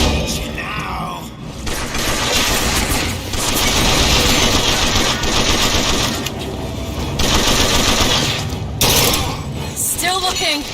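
Weapon fire from the Bioshock Infinite: Burial at Sea episode, a dense, loud stretch of sustained shooting with bursts and brief lulls, overlaid with game effects and background chatter throughout.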